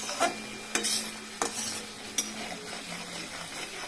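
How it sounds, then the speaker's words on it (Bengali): Spices being stir-fried in a pan: a spoon scrapes and knocks against the metal in a few sharp strokes over a soft continuous sizzle, close and clear, with no talking. "ভালো করে কষিয়ে আসছি"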